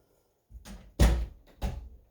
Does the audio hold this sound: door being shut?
yes